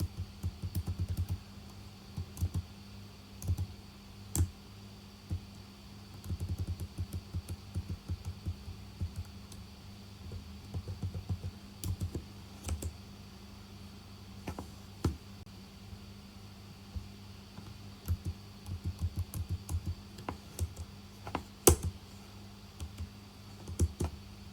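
Computer keyboard typing while a playbook is edited, with irregular clusters of light key clicks and occasional heavier taps over a low steady hum, close and continuous.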